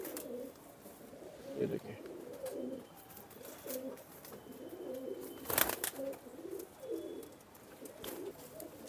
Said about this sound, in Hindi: ये देखिए कमंगर कबूतर